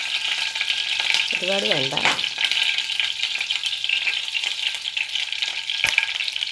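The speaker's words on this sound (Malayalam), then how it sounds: "അതിലേക്ക് നമുക്ക് അല്പം കടുക് ഇട്ട് കൊടുക്കാം." Mustard seeds crackle and pop in hot oil, a steady close sizzle broken by sharp spits, with a brief spoken remark in the middle.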